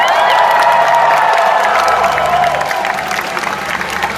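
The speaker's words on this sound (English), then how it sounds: "Big round of applause, will you please?" Loud, close audience applause mixed with cheering, whoops and crowd shouting at a live show, a dense continuous roar lasting the whole few seconds.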